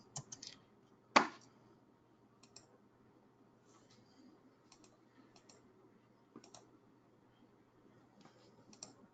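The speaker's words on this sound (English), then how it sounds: "I can type my name again." Soft keystrokes tap on a computer keyboard as a name is typed, scattered clicks in a quiet room, with one louder clack near the start and faint sparse taps after.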